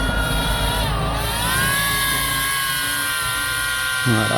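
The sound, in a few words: KFPLAN KF615 toy FPV drone taking off and flying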